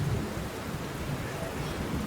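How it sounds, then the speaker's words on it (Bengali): Heavy rain pours in a steady, dense hiss, with a low rumbling undertone throughout. "দেখছিস না কত জোরে জোরে বৃষ্টি হচ্ছে"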